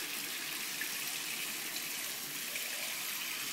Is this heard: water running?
yes